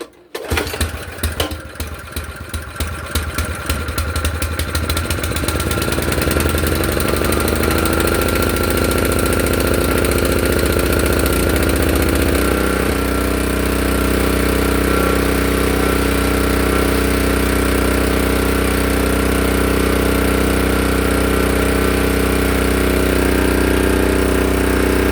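A Honda HS724 snowblower engine, choke on, sputters and catches after a few uneven pulls, then settles into a loud, steady idle close by.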